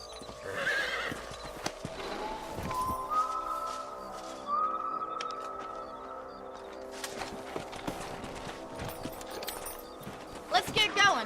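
Horses in Red Dead Redemption 2 clip-clop along with repeated hoofbeats and a neigh, accompanied by a whistle and game sounds, moderately loud, with voices talking over parts of it.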